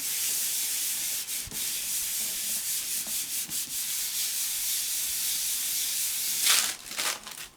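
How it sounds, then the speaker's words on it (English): Wax paper rubbed firmly across a surface while making Halloween crafts, a steady close scratchy sanding-like rustle lasting several seconds with brief pauses and a brighter crinkling burst near the end. "Remember to get your wax paper and rub it all over."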